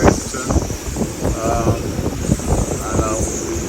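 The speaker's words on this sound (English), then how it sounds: "right now we're at the peak wind here for Bradenton" Peak hurricane winds roar steadily at Bradenton, a loud, constant buffeting rush with gusty swells and microphone wind noise, while a person talks over it.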